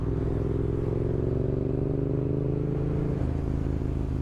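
A motorcycle being ridden around Amiens gives a steady, loud engine drone with wind rush and a slight shift in pitch, with no voices.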